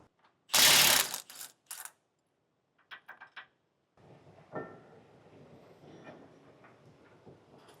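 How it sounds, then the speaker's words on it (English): A torque wrench tightening bolts on rear camper tie-downs of a 2016 Ram 3500 truck: a loud burst of ratcheting clicks, a few short separate clicks, then softer metallic handling noises close by. "Now we'll take our torque wrench and torque those down to the specification in the instructions."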